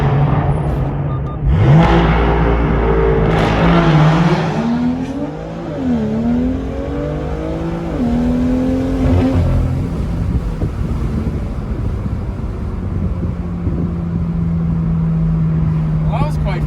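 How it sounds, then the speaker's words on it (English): BMW M2 with a modified downpipe and intake driving under a bridge, engine note rising and falling through gear changes with turbo whooshes and exhaust noise, loud and close with wind buffeting throughout. "when you're driving, you can hear so many turbo noises coming out of the back, as well as with my intake"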